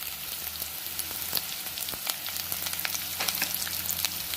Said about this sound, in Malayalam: ചെറുതായിട്ട് അരിഞ്ഞ വെളുത്തുള്ളി ഒരു കൂട്, ഒരു 4-5 അല്ലി ഇട്ട് നല്ലതുപോലെ വഴറ്റാം